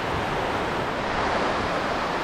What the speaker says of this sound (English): Turns out, yard's flooded. There is quite a bit of water around.